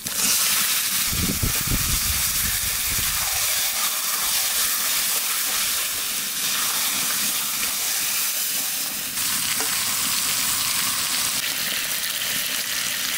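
Fish pieces for a boal fish curry drop into spice masala frying in a hot pan, setting off a loud, steady sizzle that carries on for the whole stretch with no talking.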